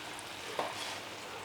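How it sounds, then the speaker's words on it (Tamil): Water boils in a pot on the stove for ragi chapati dough, giving a steady, soft, close bubbling hiss with one brief louder pop partway through. "இப்போ இங்கே பக்கம் பார்த்திங்கன்னா தண்ணி நமக்கு கொதிச்சுட்டே இருக்குது"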